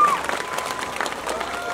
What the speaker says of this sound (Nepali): एकचोटि उहाँहरू सबैलाई ताली बजाइदिनुहोस्